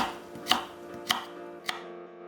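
A knife cuts carrot into julienne strips, three crisp chops spaced about half a second apart on a cutting board, close and clear with no voices.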